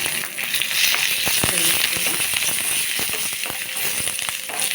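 Green chillies with curry leaves and hing sizzle in hot oil for a tempering, a dense steady crackle with small sharp pops throughout.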